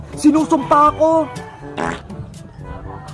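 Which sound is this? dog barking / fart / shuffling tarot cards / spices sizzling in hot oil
fart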